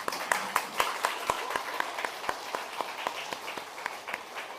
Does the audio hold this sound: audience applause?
yes